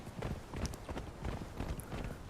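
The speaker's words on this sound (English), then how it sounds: "Yeah, sounds like the horse." Horse hooves clip-clopping across rocky ground in the video game Conan Exiles, a steady run of quick, close hoofbeats at moderate volume.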